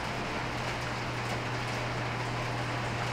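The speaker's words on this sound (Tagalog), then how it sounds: "Sobrang lakas ng ulan." Heavy rain in Manila pours in a dense, steady hiss with a constant low hum beneath, no voices.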